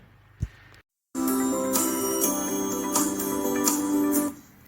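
A notification bell sound effect rings out clearly: a bright, sustained metallic chime with a few repeated strikes, close and loud, then cut off abruptly, with no talking.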